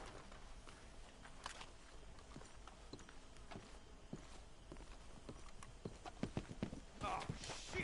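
Horses walking in a video game, hooves clip-clopping in a steady, fairly close rhythm, with faint voices and a low background bed under the steps.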